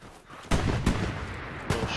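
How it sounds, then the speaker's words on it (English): Tank cannon fire in the Hell Let Loose war game, with several loud booming blasts a few seconds apart over a constant rumble of battle. "Being shot at by the tank now."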